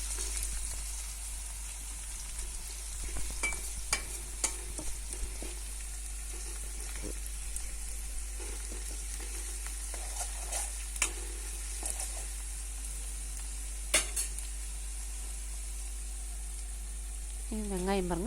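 Finely chopped garlic frying in sesame oil for a garlic kuzhambu, a faint continuous sizzle under a low hum with occasional soft scrapes of a spoon stirring the pan.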